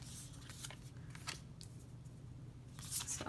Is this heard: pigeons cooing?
no